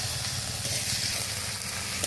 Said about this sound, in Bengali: পেঁয়াজটা ভাজা ভাজা হয়ে গেছে একটু, ওর মধ্যে এবার এই বাটা মশলাগুলো দিয়ে দেবো আস্তে আস্তে